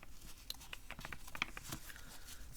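Miniature Enchanted Woods Petit Lenormand oracle cards shuffled by hand, giving soft, close papery riffles and light taps in quick, uneven bursts at a faint level.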